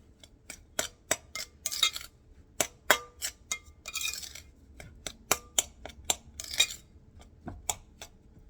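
Pie crust dough being mixed by hand with ice water added, giving a string of sharp clinks and scrapes like a utensil knocking a bowl, irregular and fairly close, with no talking.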